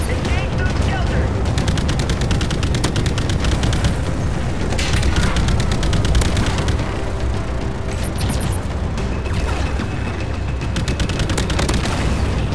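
Cannon fire from a tank-like craft in the PlayStation VR game Battlezone, a dense run of rapid booming shots and blasts over a constant rumbling battle bed, with radio-style voices talking throughout.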